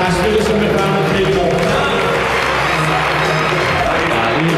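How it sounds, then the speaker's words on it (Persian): Audience applause for Canadian film director Guy Maddin at a film event, a broad wash of clapping and crowd noise running throughout beneath someone talking loudly over a sound system. "کارگردان فیلم وینیپک شهرمن از کانادا جناب آقای گای مادین رو تشویق بفرمایید لطفا"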